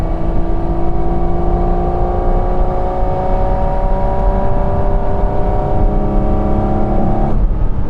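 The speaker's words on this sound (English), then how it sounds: "what I like to do is play with the different sounds this engine makes, depending on where you are in the rev range" A Porsche 911 GT3 engine pulls at low revs in seventh gear, a loud steady drone with harmonics slowly rising, heard from inside the car and cut off abruptly near the end.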